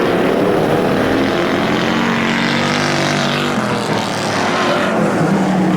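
Dirt track race cars roar around the oval at Airborne Speedway in Plattsburgh, New York, their engines rising and falling in a loud, sustained, overlapping drone as several cars pass close by.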